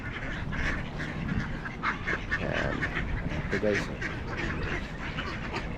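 Ducks quacking while being fed bread by a family, several short nasal quacks scattered through the clip beneath nearby chatter and a voice.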